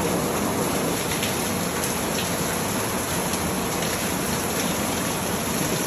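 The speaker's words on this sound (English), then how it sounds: "It is absolutely pouring right now." Heavy rain pours down steadily, a dense continuous roar of water with no gaps, loud and close throughout.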